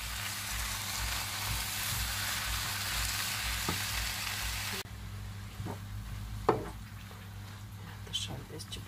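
Ribs sizzle and fry steadily in a pot for a Romanian borscht with fresh cabbage, then the hiss drops abruptly as tomato paste goes in, followed by a few soft stirring knocks and wet squishes at moderate closeness.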